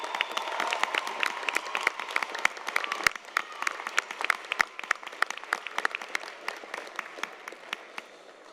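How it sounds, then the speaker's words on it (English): A commencement audience applauds the Associate in Science degree graduates. The clapping is moderate and scattered, with individual sharp claps standing out from a steady wash of applause that thins toward the end. "A round of applause for our Associate in Science degree graduates."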